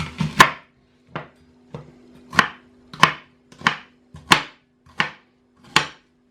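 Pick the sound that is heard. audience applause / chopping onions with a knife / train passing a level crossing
chopping onions with a knife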